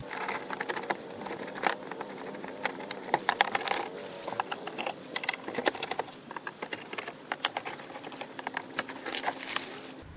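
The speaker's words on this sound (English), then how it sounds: "Going to take off this under tray with the screws." Screws come out of the under tray of a BMW 330Ci with rapid, dense clicking and ratcheting taps that carry on steadily at close range.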